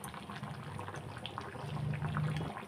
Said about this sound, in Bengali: আর 2 চামচ ঘি দিয়ে দেবো আমি